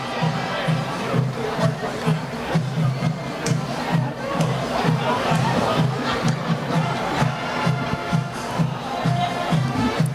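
A home crowd at a high school varsity football game roars in a steady, dense wall of cheering and babble, loud and continuous with a pulsing rhythmic chant underneath.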